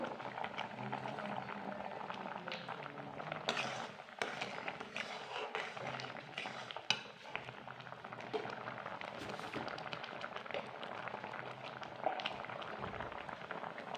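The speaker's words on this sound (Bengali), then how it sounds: "এই যে ডালটা ফুটছে" Dal for sambar bubbles in a pot at a soft, continuous simmer, quiet and close, with occasional small knocks and no talking.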